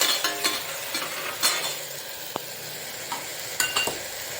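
A ground paste of shallots, green chili and cashews sizzles in a pan, with loud stirring scrapes and occasional clinks of a metal spoon against the vessel, close and with no talk.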